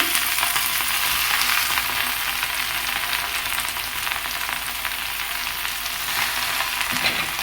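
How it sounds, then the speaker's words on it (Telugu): Gongura leaves fry in hot oil in a pan, giving a loud, dense, continuous sizzle with crackling that holds steady throughout, and no voices. "ఇందులో 2 గుప్పెళ్ళ గోంగూరను వేసుకోవాలి"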